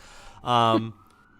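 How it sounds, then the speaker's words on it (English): A Chicago city emergency siren wails faintly in the distance behind a short burst of voice, its tone lingering in the background afterward. "Sorry if you hear some Chicago sirens in the background."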